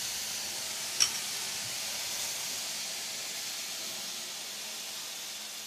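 Organic vegetables sizzle on a very hot griddle, giving a steady, even, airy hiss with one sharp click early on and no other sounds.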